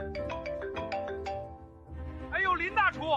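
A phone rings with a melodic ringtone of repeated tones, then a voice answers briefly over it near the end.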